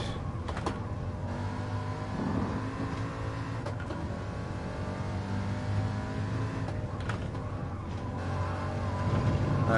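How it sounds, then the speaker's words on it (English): A big V8 engine in a GT Sport racing game rumbles steadily at a low idle, deep and continuous, swelling slightly toward the end with no talking over it. "There's no sound more threatening in the car industry than the low burbling rumble of a big, meaty V8."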